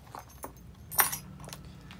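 A bunch of keys jangles as it drops into a small Jacquemus Le Chiquito handbag, one brief metallic clink burst with light rustling around it.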